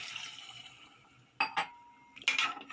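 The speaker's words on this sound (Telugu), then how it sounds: "1 గ్లాస్ వాటర్ వేసుకున్న తర్వాత బాగా కలుపుకోవాలి." Water from a glass poured into a pot of mutton and cucumber curry, a short splashing pour followed by metallic clinks of utensils against the pot, fairly close and alone.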